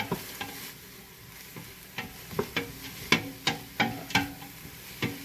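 Garlic is stirred into sweated-down onions in a pan for Colorado-style green chili: a soft steady sizzle with a series of distinct scraping stir strokes that grow more regular, close and fairly quiet.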